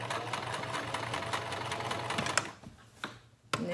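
A sewing machine stitches a garment in a fast, steady mechanical chatter, close and loud, then slows and stops with a few clicks and knocks near the end; no voices.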